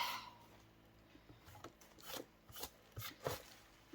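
Little resin shavings are brushed into a garbage can in a series of soft, close, quiet scraping sweeps with short pauses between them.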